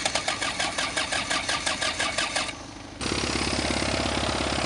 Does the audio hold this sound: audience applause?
no